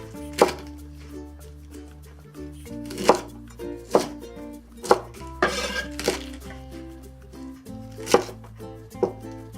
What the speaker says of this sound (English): I like to just quarter the stems